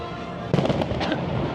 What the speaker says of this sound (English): as the fireworks happen behind the trees